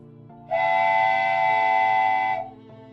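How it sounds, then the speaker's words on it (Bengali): A train leaving a station sounds one long, loud steam-style whistle that holds steady for about two seconds over a low rumble, used as a sound effect in an animated story. "ট্রেন স্টেশন ছেড়ে যাচ্ছিল।"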